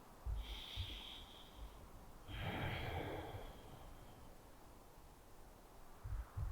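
Steady, audible breaths during a yoga runner's stretch: a short inhale and a longer, airy exhale, followed by quieter breathing over faint background hiss, with no talking.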